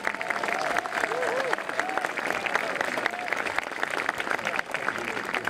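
Audience applause at the official opening of the Independence Museum in Kilmurry, a steady dense round of clapping from a crowd throughout, with faint voices murmuring underneath.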